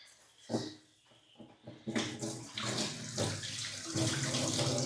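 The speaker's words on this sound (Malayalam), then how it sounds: "നന്നായി കഴുകാം ഓക്കെ കഴുകിയിട്ട് നമ്മളേ അരിപ്പയിൽ ഇതാക്കിയിട്ട് വെള്ളം ഊറ്റിയിട്ട്" Food being rinsed under a running tap and drained in a sieve while preparing laddu: a few brief splashes at first, then a steady, close, fairly loud rush of water that continues to the end, with no talking.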